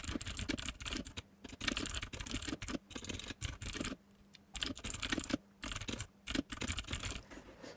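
Rapid typing on a computer keyboard, with close, clicky keystrokes in quick bursts and short pauses, heard alone with no talking.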